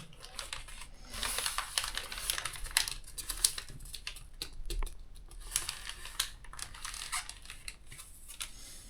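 Origami paper for a rhino model is folded in half, making soft, crisp rustles and light creasing taps. The quiet paper handling comes in short, irregular bursts with no talk.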